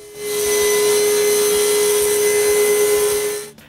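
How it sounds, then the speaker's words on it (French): A table saw spins up loudly and runs with a steady high whine and periodic thumps while cutting wood, cutting off sharply at the end. "Sur le banc de scie, je coupe l'autre côté droit."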